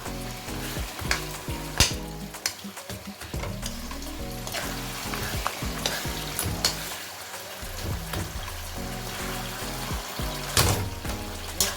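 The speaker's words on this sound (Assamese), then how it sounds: "আমি একদম ধুনীয়াকৈ ভাজিব লাগিব যাতে ই গুৰি হৈ যায়" Taro pieces fry alongside fish head in a pan with a loud, continuous sizzle, broken by the clatter and scrape of stirring.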